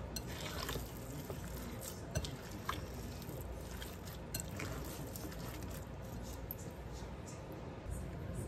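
Meatloaf mixture mixed by hand: soft, wet squishing and squelching repeats steadily, quiet and close, with faint background noise.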